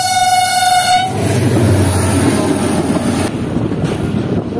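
A freight train moves through heavy rain, heard from inside the guard van: a horn blast sounds at first, then a continuous rumble of rolling wheels and rushing wind carries on to the end.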